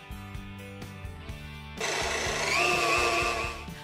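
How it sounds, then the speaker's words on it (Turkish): Pieces of sponge cake go into a kitchen blender. A quieter rhythmic whir is followed partway through by a louder, higher, steady spinning roar. "Öncelikle pandispanyayı küçük parçalara ayıralım ve blender'a koyalım."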